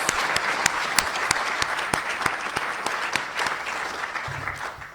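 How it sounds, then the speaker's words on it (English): Applause at a nursing white coat ceremony for the event's helpers, a sustained wash of audience clapping with sharper individual claps standing out, fading slightly toward the end. "could we give those people a round of applause for their assistance?"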